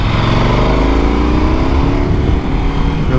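The engine of a KTM 1290 Super Adventure motorcycle roars loudly and steadily with a rising pitch as it pulls hard under acceleration, close up and with no voices.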